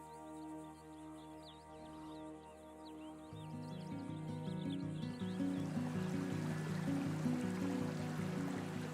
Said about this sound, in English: Kootenai Falls is recognised as one of the largest free-flowing waterfalls in the northwest, characterised by their powerful cascades